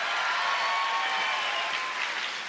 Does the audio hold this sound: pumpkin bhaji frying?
no